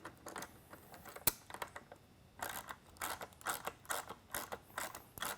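Socket wrench snugging bolts down on a Whelen Century Mini lightbar magnet mount, heard as quiet, close ratcheting clicks in short irregular bursts with brief pauses.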